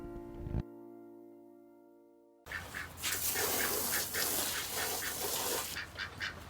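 Ducks on an animal rescue farm quack in a string of loud, close, rapid calls following a brief low hum and a quiet pause.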